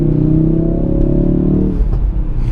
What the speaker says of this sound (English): that cracking in the exhaust note, that never gets old